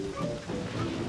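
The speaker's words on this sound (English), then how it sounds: "that rain cloud totally passed over me there" A rain cloud in Super Mario Galaxy drizzles down, producing a soft, steady wash of rainfall with a low rumble underneath, faint and continuous for about a second.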